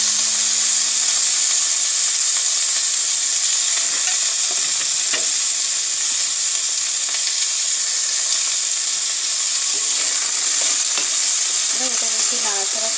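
Chopped tomatoes sizzle and crackle steadily in a hot pan for a Bengali chauli vegetable curry, with occasional spoon scrapes as they are stirred close by and no talking.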